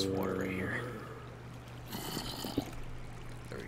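Water flows and trickles in the video game Minecraft, a soft pouring wash that rises midway. A voice murmurs at the start.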